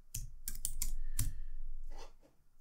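Keys on a computer keyboard are tapped in a short burst of sharp clicks while an answer is typed in for a TryHackMe pentesting exercise, with a few quicker strokes after a brief pause, close and fairly loud.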